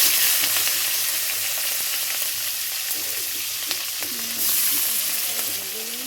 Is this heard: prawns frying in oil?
yes